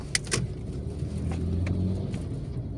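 Manual car engine during a driving lesson, a low steady rumble that slowly builds as the car accelerates, with a few small clicks early on.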